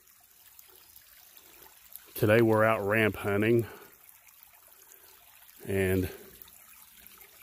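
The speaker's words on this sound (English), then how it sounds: "a little tiny babbling brook coming off a mountain right through the middle of a ramp patch" A small babbling brook flows off a mountain through a patch of ramps, making a soft, steady trickle that continues beneath a man's nearby speech.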